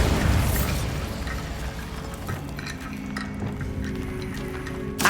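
A Bombarda blast spell from the Hogwarts Legacy video game bursts at the start and again at the very end, set against steady in-game music and ambience.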